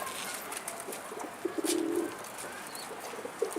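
Pigeons kept in a loft coo softly in a low, throaty burst partway through, with a second short coo near the end, all faint against a constant hiss of outdoor background noise.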